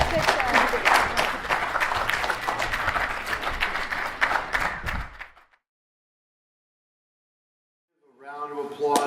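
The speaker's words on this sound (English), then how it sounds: "Round of applause." An audience bursts into dense applause and clapping after a youth debate final, lasting about five seconds before it stops, followed by silence and then a voice starting to speak.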